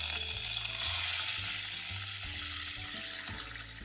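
Frozen peas go into a pan of hot butter and bacon fat, a loud, steady close-up sizzle with soft stirring movements.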